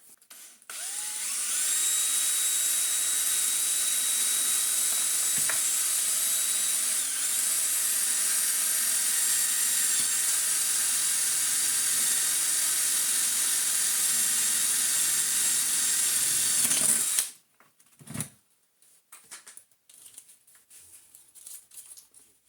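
Cordless drill boring a hole through a Miele vacuum hose: a steady, loud high-pitched whine running unbroken for about sixteen seconds, then cutting off abruptly, followed by faint handling clatter and scraping.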